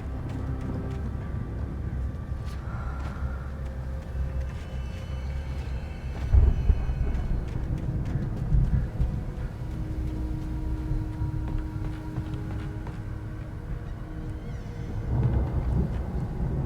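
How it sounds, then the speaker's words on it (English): A thunderstorm in the Alan Wake Remastered video game rumbles low and steady beneath gusting wind, with a sharper crack of thunder near the middle and distant rolling booms throughout. "The storm raged on"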